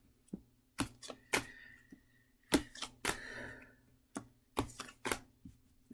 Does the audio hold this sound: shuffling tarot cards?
yes